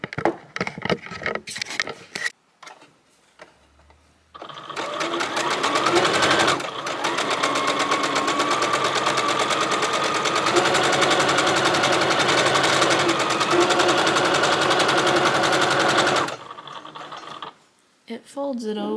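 A sewing machine stitches a cardigan with a folding attachment that keeps the fabric edge turned over. After a few brief starts it settles into a steady, loud, close run of about twelve seconds, then stops.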